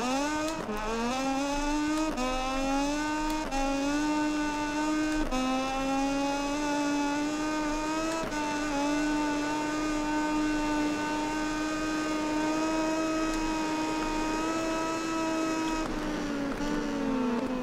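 A motorcycle engine in the MotoGP 20 racing game screams at high revs, holding a steady, loud whine with brief gear-shift dips and a continuous buzzing tone.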